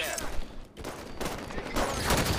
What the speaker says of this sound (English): This guy's just shooting me.